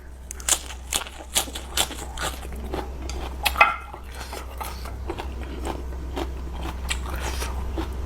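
Close, crunchy bites and chewing while eating spicy curry noodles, with a few sharp bites early, then softer, steadier mouth sounds over a low hum.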